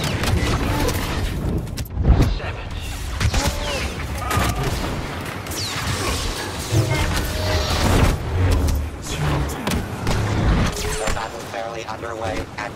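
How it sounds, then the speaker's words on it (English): Rapid blaster fire in the Star Wars Battlefront 2 video game, bursts of sharp zapping shots scattered throughout amid explosions and battle noise, with a voice heard at times over the din. "See how they like a little blaster fire."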